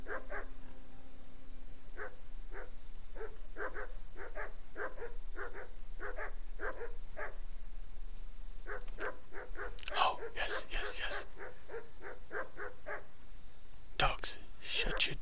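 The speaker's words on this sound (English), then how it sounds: "Those dogs are barking at me." Several dogs bark in repeated bursts in the video game Kingdom Come: Deliverance, at night, a steady run of barks building into a denser, louder cluster with higher yelps near the end, over faint background ambience.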